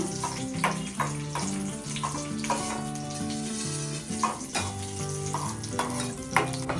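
Ghee sizzles steadily in a pan as ingredients fry for payasam, a continuous close crackle under a musical background, with occasional soft clinks and stirring.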